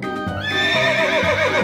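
A horse neighs loudly and close, a shrill wavering whinny rising then falling, with hoof clip-clops underneath in a cartoon scene.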